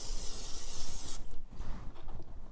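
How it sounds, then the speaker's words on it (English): An olive oil cooking spray hisses onto chicken in one steady burst for about a second, then stops, leaving faint rustling and handling noises. "I'm going to spray the top of my chicken generously."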